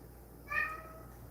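A single short cat meow, a brief rising cry heard close but soft against a quiet indoor background.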